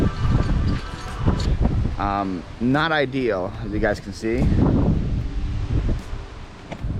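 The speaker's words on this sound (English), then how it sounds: "It's very windy here." Strong wind at Venice Beach buffets the microphone with a constant low rumble and gusting roar while a person talks over it.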